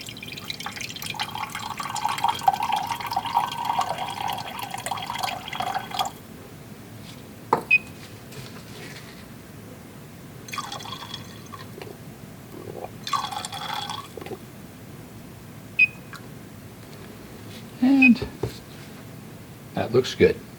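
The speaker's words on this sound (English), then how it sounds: "Let's go ahead and add our water." Water poured into a beaker for a lab solution mixture, a trickling pour in the opening seconds followed by scattered clinks and handling noises, with speech heard at times.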